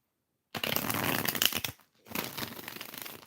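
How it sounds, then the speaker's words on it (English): Tarot cards being shuffled by hand during a live reading: two close, crisp bursts of riffling and sliding, the first longer, separated by a short pause. "Let's get a good shuffle in here."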